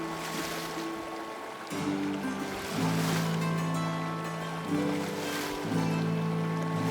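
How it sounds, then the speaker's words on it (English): A Minecraft boat glides down a lazy river with water lapping and paddle splashes, layered over a steady game music tone in the background, with no voices. "Let's craft a boat and head down this river in search of a village."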